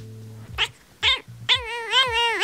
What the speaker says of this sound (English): The cat's singing!